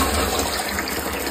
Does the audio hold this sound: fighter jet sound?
no